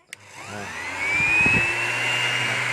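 A DeWalt DWE6423 5-inch random orbit sander switches on at speed one with a click and spins up into a rising whine. A steady, fairly loud motor hum then settles in nearby.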